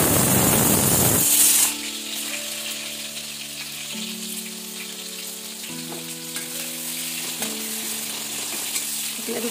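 Egg and onion sizzle and fry loudly in a hot pan, a steady crackling hiss that starts after a brief burst and continues throughout, with faint clinks of stirring and no talking.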